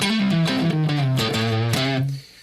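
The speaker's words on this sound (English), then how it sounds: "I can throw on a whole bunch of distortion if you want." An electric guitar through heavy distortion plays a short, sustained melodic phrase of several notes, loud and close, then cuts off and fades to a faint tail.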